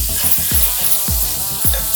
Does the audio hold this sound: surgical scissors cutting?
no